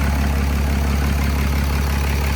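A second-generation Mega Cab truck with a swapped-in 6.7 Cummins diesel idles at steady volume, a constant low rumble with an even, throbbing texture and no pauses or revs.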